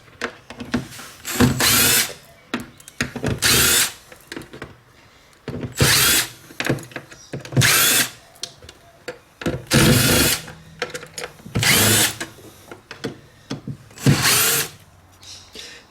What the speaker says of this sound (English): it should be as easy as undoing the screws and putting the new ones in